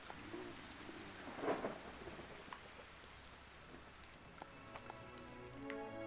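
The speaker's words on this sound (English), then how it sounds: "Right, one storm done." Thunderstorm in the video game Jurassic Park: Operation Genesis, with a steady hiss of rain and a rumbling thunder swell near the middle, faint and alone without talk.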